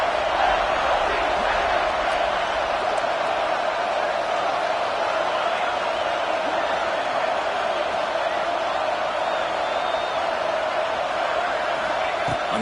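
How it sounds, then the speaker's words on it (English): A dense stadium crowd roars steadily through a College Football 25 red-zone defensive stand, a broad continuous wash of noise with faint whoops, while a commentator talks over it. "here comes the noise. This crowd is trying to inspire this defense to make a big red zone stop."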